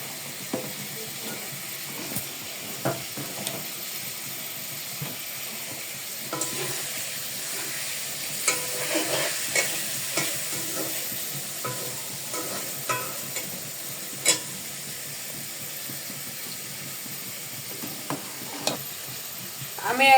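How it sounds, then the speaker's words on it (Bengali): Stirring payesh, a rice and milk pudding with raisins and cashews, in a pot: soft scraping and irregular spoon knocks over a gentle bubbling hiss, with a few sharper clinks scattered throughout. "এখন আমি আবারও হালকা করে একটু নেড়ে দেব"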